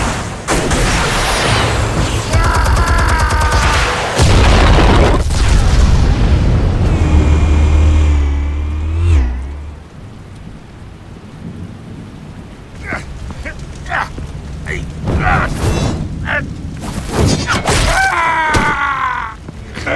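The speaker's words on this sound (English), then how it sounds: "Explosives armed. Fire when ready." Armed explosives detonating in Batman: The Telltale Series, a long heavy rumbling roar with deep booms that fades out midway, followed by scattered sharp cracks and debris impacts, with strained vocal sounds in the mix.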